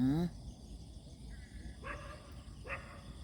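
A dog barks a few times at a distance out by rice fields, short yips spaced apart over a low outdoor hum, after a brief burst of voice at the start.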